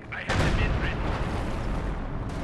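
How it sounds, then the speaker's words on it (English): Artillery fire in the video game Company of Heroes 2, Soviets against Wehrmacht: one sudden heavy blast that rumbles and decays over the next two seconds. "There goes my artillery."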